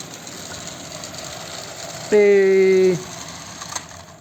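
A Roundhouse 020 'Anna' live steam model locomotive runs with a low, steady mechanical hum, broken by a loud, sustained tonal burst lasting under a second; a voice speaks a single word.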